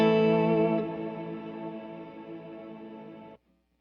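A Chase Bliss Audio Mood MkII pedal set to a very long reverb makes a sustained, shimmering wash of tones that swells, then slowly decays before cutting off abruptly near the end.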